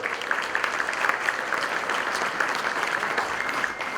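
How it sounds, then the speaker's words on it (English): A crowd claps steadily throughout, a dense, even applause from many hands with no pauses. "Can you please give them a nice round of applause, well deserved."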